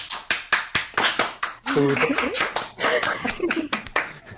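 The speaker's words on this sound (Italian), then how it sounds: "hai fatto partire un applauso per una cosa che hai detto tu" A few hands clap in a sharp, evenly spaced rhythm of distinct slaps, close and clear, then the claps thin out and continue more loosely under speech and laughter-like voices in a small room.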